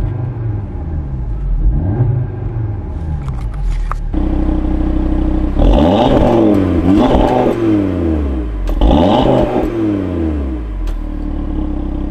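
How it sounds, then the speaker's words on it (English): 2021 Audi TT RS sitting in park in dynamic mode, its engine revved repeatedly, with a steady idle rumble broken by three sharp climbs against the rev limiter and quick falls back, loud and close. "we'll go ahead and throw this into dynamic mode, and we'll get some revs here"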